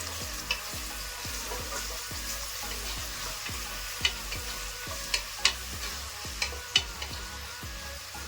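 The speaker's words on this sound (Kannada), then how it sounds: "ಉದ್ದಕ್ಕೆ ಕಟ್ ಮಾಡ್ಕೊಂಡಿರೋ ಈರುಳ್ಳಿ ಹಾಕೊತಾ ಇದ್ದೀನಿ. ಇದನ್ನ ಒಂದು ಸ್ವಲ್ಪ ಎಣ್ಣೆ ಬಾಡ್ಸ್ಕೊಳ್ಳೋಣ" Lengthwise-sliced onions fry in oil with a steady soft sizzle, while a spoon scrapes and taps the pan at irregular intervals, close up with no talking.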